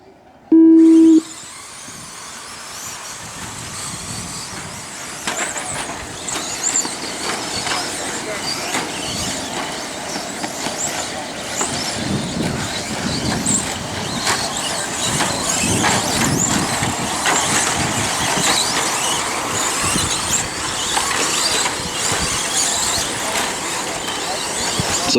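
Two-wheel drive RC short course trucks racing in a main event: a brief start tone, then a steady high-pitched electric motor whine from several trucks that builds and persists, with an announcer talking over it.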